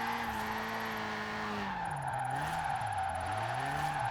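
Car sliding sideways in Forza, a low-horsepower car: a continuous, loud tire squeal wavers in pitch over a steady engine drone as the slide goes on.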